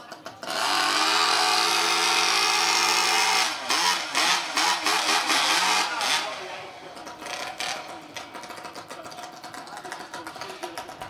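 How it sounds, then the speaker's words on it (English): STIHL chainsaws fire up at the Kumeu International Timber Championships, a timber sports competition, in a sudden loud, sustained roar that breaks into choppy revving bursts and then settles into a lower, ragged idle with voices faintly underneath. "Sawyers, start your engines."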